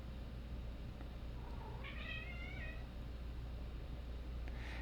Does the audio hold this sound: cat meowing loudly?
yes